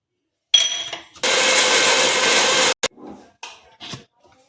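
An electric mixer grinder whirs loudly for about a second and a half while blending ingredients for Nawabi chicken, followed by short clatters and knocks as it stops.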